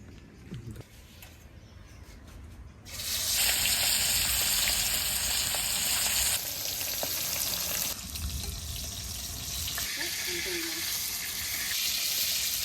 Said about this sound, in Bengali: মাছটা ওইদিকে ভাজা হচ্ছে